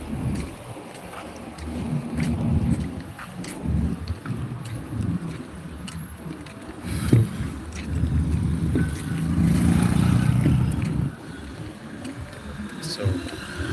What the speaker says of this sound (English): because of this traffic